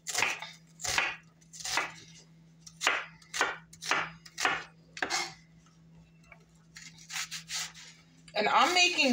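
A knife chops through a whole onion on a cutting board, making a run of sharp, evenly spaced knocks up close, with a louder clatter of board and cutlery at the end.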